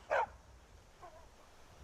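A single loud dog bark from Skyrim, short and close, followed by a fainter, softer yelp about a second later over low background ambience.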